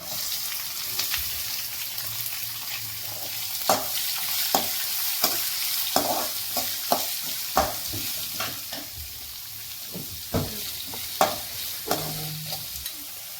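Green chillies, dry chillies and onion frying in a pan, a steady sizzle broken by repeated sharp scraping stirs at an irregular rhythm, close and clear, with no voices.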